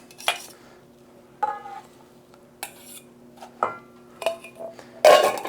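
Sugar and eggs being mixed in a bowl for clafoutis, a summertime batter: a handful of separate clinks and scrapes of utensil against the bowl, spaced irregularly with quiet gaps, the last stroke the loudest.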